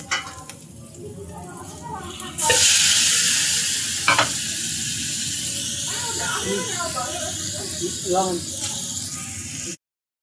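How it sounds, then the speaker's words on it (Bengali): Prawns drop into a hot pan and burst into loud, steady frying that holds for several seconds, with scattered clicks and stirring scrapes over the sizzle while a person talks at moments. "দিয়ে দিচ্ছি চিংড়ি মাছ,"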